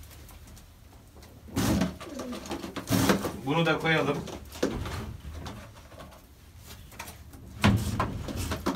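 Young Mardin pigeons of the Çakmaklı, Miski and Miro breeds coo once in a clear, close, warbling call amid cage knocks and rustling, while someone talks nearby.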